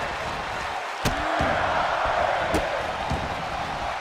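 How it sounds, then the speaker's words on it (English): Raucous wrestling arena crowd in WWE 2K24, a steady loud roar of many voices filling the space, with a couple of sharp impact thuds and a faint voice over it. "What a raucous crowd here tonight."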